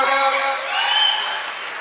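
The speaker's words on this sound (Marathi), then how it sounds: "एकदा टाळ्या होत्या," Students clap as an audience, short burst of applause overlapping with a speaking voice near the start, fading slightly toward the end.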